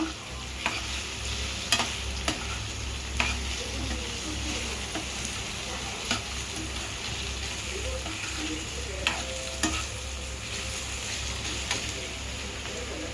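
Beetroot with turmeric is stirred while it fries in oil, a steady close sizzle broken by sharp, irregular spatula scrapes and clacks against the pan throughout.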